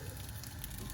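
A steady, soft sizzle and light crackle of bread frying in a lightly oiled pan, continuous and close, with no talking.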